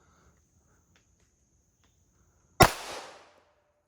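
A single loud, close .40 caliber 180 grain pistol shot cracks sharply, fired at a knife blade about 8 yards away, with a brief decaying tail after a quiet stretch.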